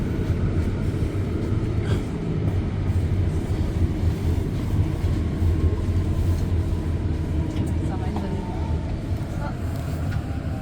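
REM electric train at Edouard-Montpetit station in Montreal, a steady low rumble with faint whining tones throughout, heard from on board with speech over it.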